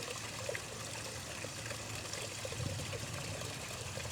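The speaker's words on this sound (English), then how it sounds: "So this is how the final waterfall area turned out." Water from a backyard pond waterfall, fed by a new pump, trickles and splashes steadily on a chilly early morning. It is a soft, continuous, fairly faint babble with no voices.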